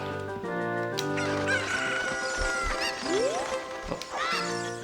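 Cuccos in the video game Zelda Ocarina of Time cluck and squawk in a steady flock chatter over game music, with a rising cry midway.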